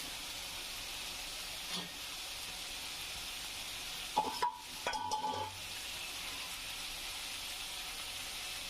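Okra tossed into a pan of sautéed potatoes, frying with a steady quiet sizzle and a couple of brief clatters and stirring scrapes midway.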